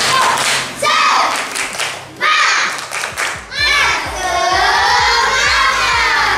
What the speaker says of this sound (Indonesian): Mari sama-sama kita tepuk semangat.